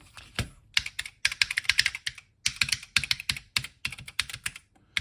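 Rapid clattering keystrokes on a restored Atari 800 computer keyboard, typed in quick bursts with short pauses, close and fairly loud with no voices.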